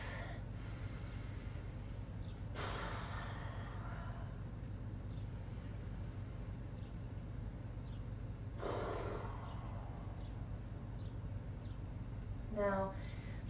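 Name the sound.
deep belly breathing during yoga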